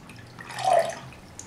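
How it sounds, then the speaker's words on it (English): Nutrient solution being poured into a container for a decorative Kratky-method hydroponic system, heard as a single soft, brief liquid splash with a dripping quality, faint and close, with no talking. "We fill the container with a nutrient solution of your choice."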